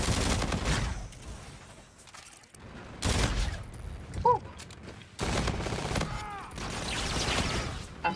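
Dense bursts of assault rifle fire in the shooter game Infinite Warfare during a gun game match, loud rapid volleys broken by short pauses, with game effects and mechanical clatter between them.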